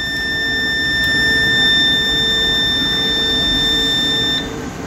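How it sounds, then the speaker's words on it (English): A Dell XPS 10th-gen laptop with its charger connected gives off a steady digital beep: several constant high tones held for about four seconds before cutting out, loud and with no talking. "See, it's a digital beep."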